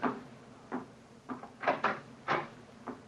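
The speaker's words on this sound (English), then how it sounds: "Mrs. Hudson's opening the door to him now." A front door is opened in an old London house, heard as a string of short wooden clunks and knocks of the latch and door, spaced irregularly and fairly close by.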